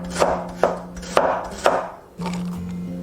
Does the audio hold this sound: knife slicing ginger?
yes